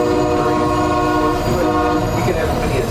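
A White Pass railway train in Skagway, Alaska rumbles past up close, loud and steady, with a sustained horn tone layered over the rolling noise of the cars.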